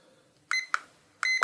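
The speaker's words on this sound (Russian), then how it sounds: "Двумя кнопками производится сброс таймера" A cheap digital kitchen countdown timer gives short electronic beeps as its buttons are pressed to reset it: two quick beeps, a pause, then two more, loud and close with no talking.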